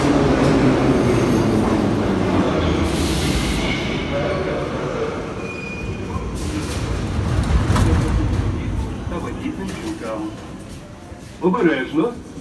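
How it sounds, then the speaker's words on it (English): A metro train on the red line in Dnipro runs with a loud, steady rumble of wheels and carriage noise, rising and falling as it travels, with brief squeals and knocks, and a voice over the train noise near the end. "I'm gonna go in the metro and go to the exact opposite end of this red line."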